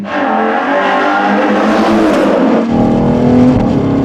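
A Ferrari Purosangue fitted with a Novitec exhaust system without the sport catalyst drives along, its engine a loud, steady, close drone that shifts tone partway through as the revs change.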